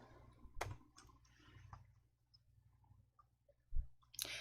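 Sharp, close mouse clicks pick out a cell in an Excel spreadsheet, several separate clicks spread irregularly across a quiet room with soft faint handling noises between them.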